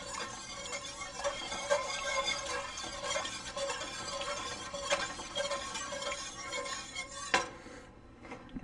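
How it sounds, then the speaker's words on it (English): A whisk scrapes and clinks steadily around a pot of lobster cheddar ale soup, quick metallic taps and swishes repeating close and fairly quiet before a sharper knock and a drop-off near the end. "Just keep whisking away,"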